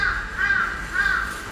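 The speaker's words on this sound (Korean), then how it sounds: "이 거리에 지금은 까마귀 울음소리만 울려 퍼집니다" Crows caw repeatedly in three drawn-out calls across a deserted outdoor shopping street in Ilsan, with a steady low background hum beneath them.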